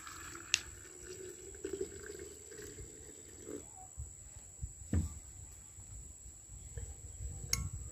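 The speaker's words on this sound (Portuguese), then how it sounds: "Aí eu vou usar aqui água quente," Hot water is poured into a jar holding about thirty flowers, giving a soft, uneven liquid splash and trickle with a few small glassy clinks and knocks, fairly quiet and close, with no talk over it.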